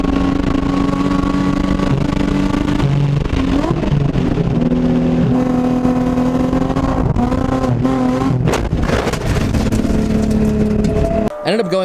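A Nissan 350Z track car runs on a racetrack, its engine loud and close, revving and climbing in pitch through the gears before a brief, harsh disturbance at the end.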